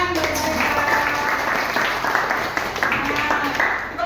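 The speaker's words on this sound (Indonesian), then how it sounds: "Tepuk tangan buat mereka." A classroom of students claps for classmates, a steady blended patter of applause lasting a few seconds with voices faintly underneath.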